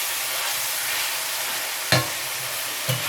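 Meat fries in a pan with a steady close sizzle and hiss, broken by two brief stirring scrapes, with no talking.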